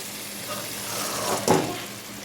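Whole potatoes stirred into a frying curry with a little water poured in, giving a steady close sizzle that swells into a brief louder splash and hiss near the end.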